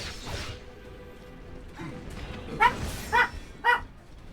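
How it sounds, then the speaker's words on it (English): War dogs in the video game Wo Long: Fallen Dynasty let out three sharp, evenly spaced barks over a low rumble of game sounds. "War dogs."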